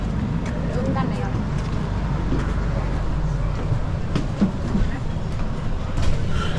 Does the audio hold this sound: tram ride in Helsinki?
yes